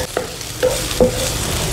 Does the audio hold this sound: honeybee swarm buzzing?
no